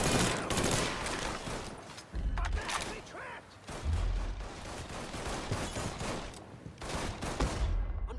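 Heavy gunfire in the video game Mafia 3: Definitive Edition, with dense bursts of automatic shots and booming blasts in rapid clusters that keep going across the whole stretch.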